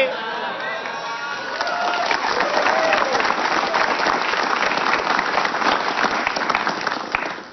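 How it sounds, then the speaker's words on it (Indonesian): An audience at a live stage show breaks into sustained applause, dense and even, lasting several seconds before tapering slightly at the end, with faint crowd voices mixed in. "tepuk tangan ini, asik ya"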